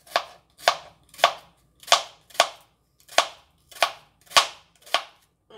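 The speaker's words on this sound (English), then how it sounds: "And we're cutting up some onions." A knife chops onions sharply on a cutting board, about ten crisp, evenly spaced strikes in a steady rhythm, close and clear with nothing else heard.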